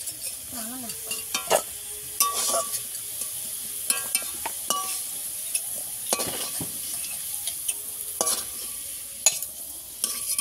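Potatoes fry in hot oil while an egg curry is being made, with a soft continuous sizzle and scattered sharp clinks and scrapes from a utensil working through the pan.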